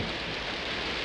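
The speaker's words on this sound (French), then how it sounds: "Oh, il pleut, Chris, c'est un véritable déluge!" Heavy rain pours down in a dense, steady broadband hiss that stays loud and unbroken for the whole moment, with no voices over it.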